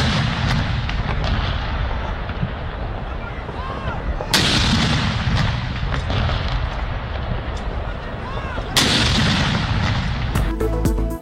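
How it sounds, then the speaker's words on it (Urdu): A ceremonial cannon salute fired in a capital city, with three heavy booms at roughly four-second intervals, each rolling and rumbling over a constant loud background, sounding fairly close. "وفاقی اور صوبائی دارالحکومتوں میں توپوں کی سلامی دی گئی"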